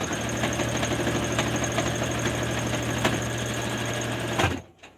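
A sewing machine used for thick fabrics such as denim runs in a steady mechanical hum with a fast rhythmic needle clatter, close and continuous, then stops abruptly near the end.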